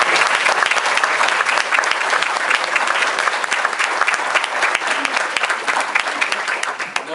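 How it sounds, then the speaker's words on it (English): An audience at a city manager's report gives a loud, sustained round of applause, a thick wash of many hands clapping at once that barely dips before easing slightly at the end. "all these men, I think, deserve a great round of applause"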